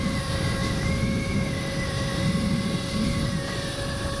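Talaria XXX RED Edition electric bike with pedal kit accelerating toward top speed, a steady high motor whine with rising tones over rushing wind noise, loud and close, with no talk.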